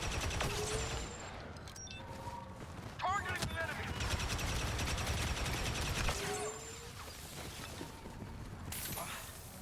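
Rapid bursts of video game gunfire in a battle against AI opponents, dense and continuous near the listener, with chattering shots and mechanical clicks layered under busy game sound throughout.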